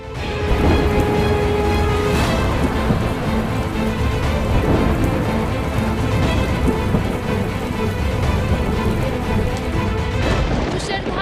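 Steady, dense rain pours without letup in Mumbai, with low rumbling underneath and a few faint voices mixed into the downpour.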